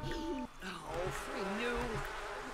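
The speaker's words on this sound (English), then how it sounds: "Oh gosh, how are the bees inside?" Bees buzzing inside a building in a farm video game, a faint insect drone under a speaking voice and tonal game sounds.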